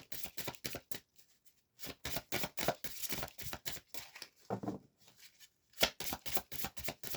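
Tarot cards being shuffled and drawn by hand: quick, crisp riffling bursts in rapid rhythmic runs, broken by short pauses and a few single snaps, close and clear with no talking.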